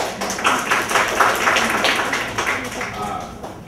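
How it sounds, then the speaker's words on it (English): An audience gives a panel of men a round of applause, close, lively clapping from many hands that rises and gradually tapers, with voices mixed in. "I personally want to thank you guys and give you guys a round of applause for being so open"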